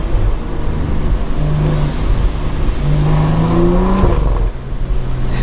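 A loud stage 2+ tuned BMW engine revs up and down close by, its exhaust note rising and falling, with a few pops, alone without talk.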